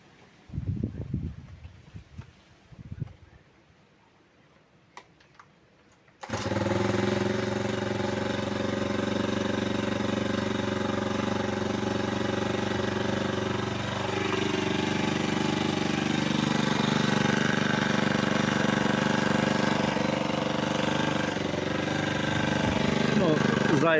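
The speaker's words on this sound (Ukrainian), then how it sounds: "Маленький маленький запуск, От, щоб почули роботу самого двигуна." A four-stroke Prokraft T5600 brush cutter engine starts up after some quiet shuffling and a voice, then runs at a steady, buzzing idle for the rest of the clip.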